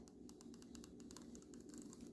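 Rapid, fairly quiet mechanical clicking ticks along in quick irregular bursts over a low hum, from the film rewind mechanism of an Olympus OM-4 35mm camera.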